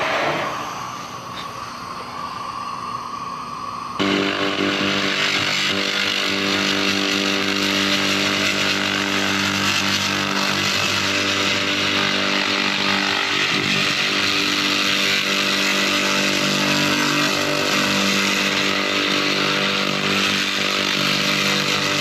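A 2000W laser cleaning machine strips heavy scale from steel, giving a loud, steady, harsh roar that jumps up after a quieter start and then holds continuously, close and unbroken.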